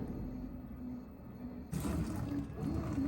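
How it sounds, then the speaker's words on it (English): A Whirlpool Cabrio Platinum washer filling with water, a low steady rush of flowing water that swells louder partway through, quiet and continuous with no talking. "It filled with water and it continues to fill a little bit here and there."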